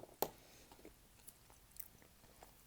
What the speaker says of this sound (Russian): Откусишь, он распадается на мелкие кусочки.